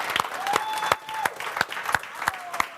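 A studio audience claps on a French-language television hypnosis show, sounding as a loose, moderately close patter of hands with a steady hum underneath.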